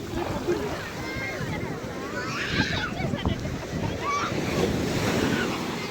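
Rough sea waves surge and crash onto the shore with a steady wash of surf and heavy wind buffeting the microphone, while voices talk faintly underneath.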